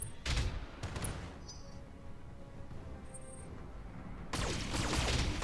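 Twin medium lasers fire from a mech in a BattleTech multiplayer match, a loud crackling burst at the start, a sustained rumbling energy discharge through the middle, and a second heavy volley near the end.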